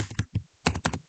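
Fingers tap a computer keyboard while entering a formula in Google Sheets, a few quick clustered keystrokes close and clear with no talking.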